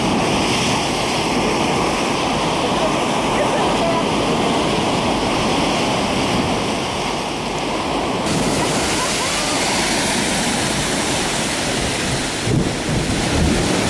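Water rushing and crashing continuously along the shore in Door County, Wisconsin, loud and close, a dense roaring wash with occasional voices faintly underneath.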